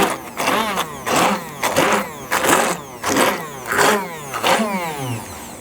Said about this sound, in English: little handheld immersion blender